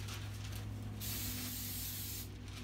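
Cooking spray hisses onto a sheet of parchment paper in a kitchen, two continuous bursts with a brief pause between, close and steady, with a low hum underneath.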